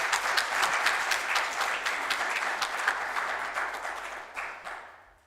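A church congregation applauds steadily during a Sunday celebration service, a broad wash of many hands clapping that gradually thins and fades out toward the end.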